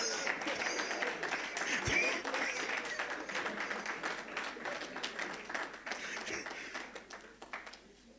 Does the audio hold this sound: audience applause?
yes